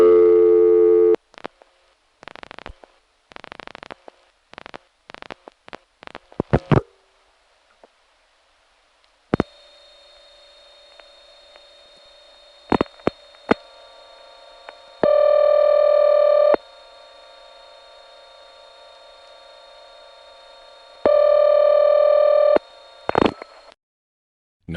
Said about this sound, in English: Another call to a ringing number in Congers showed a slightly different face of that same rather odd ringing machine.